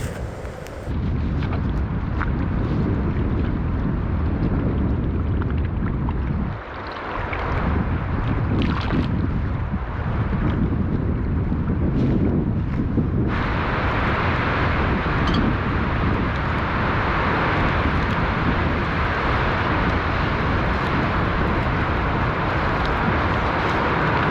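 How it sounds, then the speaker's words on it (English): Strong blustery wind roaring and buffeting the microphone continuously, loud and close, with gusts rising and falling throughout. "Hopefully you can hear me over this blustery wind once again."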